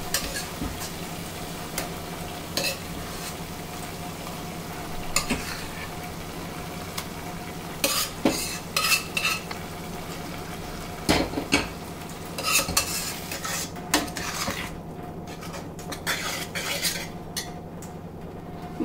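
Smashed peas being stirred into a cooking masala for street-style peas chaat, with repeated scraping and clinking of a spoon against the pan over a steady low sizzle, close by and moderately loud, with no talking.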